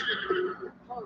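A brown horse in The Legend of Zelda: Breath of the Wild whinnies once in a short, high, wavering neigh that rises and falls, heard close and clear.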